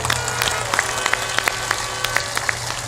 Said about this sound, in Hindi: सब लोग ताली बजाकर उनका सम्मान करें